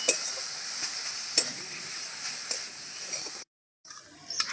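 Food sizzles steadily in a hot pan with occasional scraping stir clicks, then the sizzle cuts out briefly before resuming.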